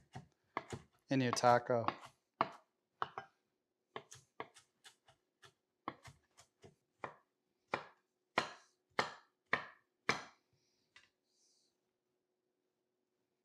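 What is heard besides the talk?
knife finely chopping lettuce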